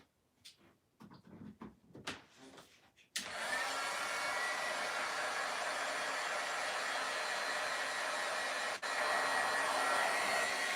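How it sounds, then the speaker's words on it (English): Crafting heat tool switched on after a few soft handling knocks, then a loud steady whoosh of hot air blowing close by, continuous and unbroken. "I am going to turn on my heat tool."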